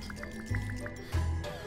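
Gulping and liquid sloshing as the character drinks water in the video game Manual Samuel, two short swallowing bursts over a faint tonal game background, fairly close.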